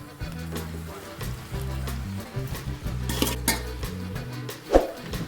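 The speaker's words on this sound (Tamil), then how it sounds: "இது எல்லாத்தையுமே மசாலாலாம் ஒன்று சேர்கிற மாதிரி கிளறி விட்டுக்கணும்." Fried chapati pieces tossed with masala in a pan for chilli chapati, with metallic clinks and scrapes of a spoon against the pan over a faint sizzle, close and uneven.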